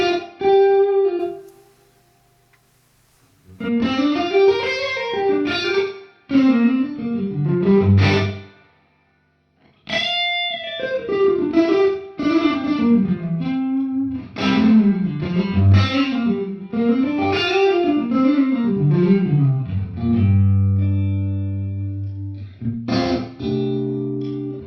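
Electric guitar played through a KMA Machines Endgame pedal on its ambience setting, adding room sound to the amp's spring reverb; distorted chords and melodic phrases ring out in bursts with brief gaps, loud and alone.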